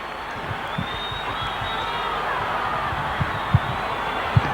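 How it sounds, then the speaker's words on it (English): A stadium crowd at a Leeds v Wigan match sends up a sustained roar of encouragement, a broad, steady wash of noise with a few dull thumps scattered through it. "Crowd giving every encouragement to Leeds."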